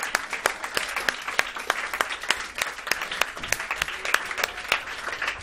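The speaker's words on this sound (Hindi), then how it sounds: "एक बार जोरदार तालियां बजाओ" Students in a classroom revision session clap loudly together, a dense, sustained patter of many hands with sharper individual claps standing out, continuing steadily throughout with no talk over it.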